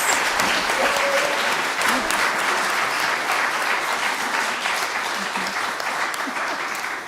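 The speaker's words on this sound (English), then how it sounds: "A round of applause for all our actors." Sustained, loud audience applause for the cast of a Christmas Carol staging on Christmas Eve, a thick crowd of clapping that holds steady throughout and tapers slightly near the end, with a few faint voices beneath.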